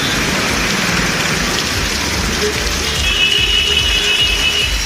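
Moderate rain falls steadily around Sirkazhi in Mayiladuthurai district, a continuous broadband hiss of drops on surfaces with no voices, holding even throughout and thickening slightly near the end.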